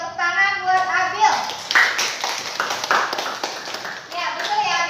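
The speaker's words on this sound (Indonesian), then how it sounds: "Tepuk tangan buat Abil" Children in a classroom clap together for a classmate in a quick, close burst of applause between stretches of a speaking voice.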